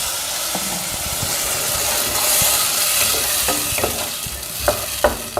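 Ground tomato paste poured into hot oil with popped mustard seeds for a bitter gourd sambar, hissing in a loud, steady sizzle that swells midway, with a few sharp clinks and pops near the end.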